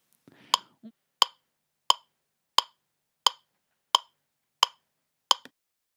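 Metronome clicking a steady beat, eight sharp evenly spaced ticks roughly two-thirds of a second apart, alone and fairly quiet after a brief soft noise at the start.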